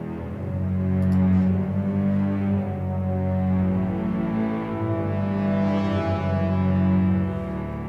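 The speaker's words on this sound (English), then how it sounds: "you can also use the French horns to create these kind of nice swells as well" French horns swell slowly over dark, low sustained strings in an ominous orchestral passage, a dense held chord that rises and falls gently in loudness without pause.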